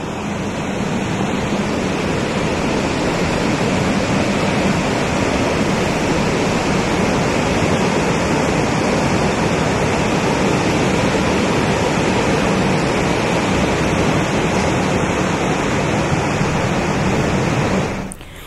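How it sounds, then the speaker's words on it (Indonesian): Torrential floodwater from an overflowing river rushes into a shopping mall's parking area, a loud continuous roar of churning water that stays steady and close throughout, with no voices. "Detik-detik arus deras banjir yang masuk melalui area parkir mal terekam kamera"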